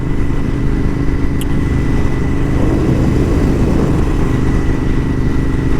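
A Royal Enfield Continental GT 650 motorcycle on the road gives off a steady, loud engine drone with constant wind rumble, with no voices and no change in pace.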